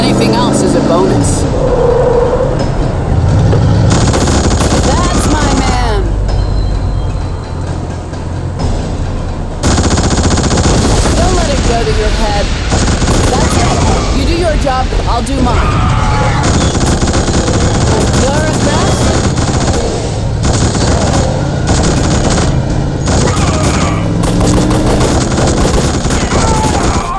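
Gunfire in the video game The Suffering: Ties That Bind, loud and sustained bursts during a driving sequence, mixed with vehicle engine noise and intermittent talk.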